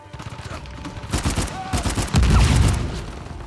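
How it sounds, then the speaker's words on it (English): Rapid grenade launcher blasts and gunfire from a firefight in the video game Uncharted 4, loud repeated bursts and booms building to a heavy explosion near the end. "Grenade launcher. I need this right now."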